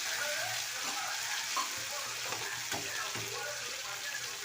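Cauliflower chilli fries steadily in a pan, a dense continuous sizzle with soft stirring scrapes and a few light clicks, close and alone with no talk.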